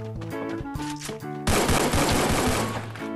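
Rapid automatic AK47 fire in the mobile shooter game Garena Free Fire, sprayed without aiming, a dense loud burst of shots starting midway and running to the end over a steady background of game music.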